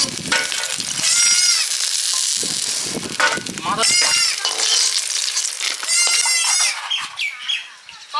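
Snakehead fish with green banana cooks in a little oil in a pan, giving off a continuous sizzle and bubbling while people talk over it nearby.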